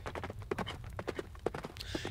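Hooves clip-clop at a steady walking rhythm from a king's horse setting out into the night in a Hindi story, quiet and fairly close, with regular knocks over a low background rumble.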